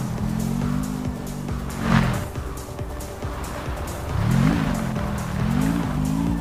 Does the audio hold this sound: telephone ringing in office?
no